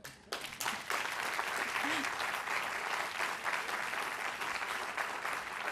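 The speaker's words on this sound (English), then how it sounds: "as we welcome our panel of journalists and representatives from each side of this issue. We can applaud now." An audience at a public forum bursts into sustained applause, dense clapping that starts suddenly and keeps going at a steady level, with faint voices mixed in.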